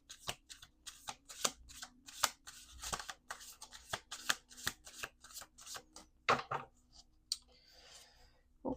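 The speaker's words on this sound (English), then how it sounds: "Last shuffle. Last shuffle." Repeated crisp riffling snaps of a deck of cards being shuffled, several quick bursts close up, with no talking.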